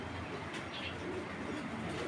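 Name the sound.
male kamakar pigeon cooing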